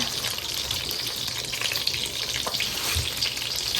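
Cumin, coriander and fenugreek seeds crackle and sizzle as they are tempered in hot oil, a continuous close frying hiss with small pops and no talking.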